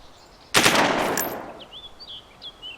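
A single heavy gunshot with strong recoil from a weapon in the video game DayZ cracks loudly and decays over about a second, followed by faint bird chirps in a quiet outdoor scene.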